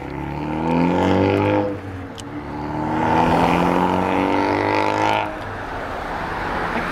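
A loud car engine and exhaust under way, a deep droning roar with stacked rumbling tones that swell, dip briefly, then surge again before easing off, with no talk.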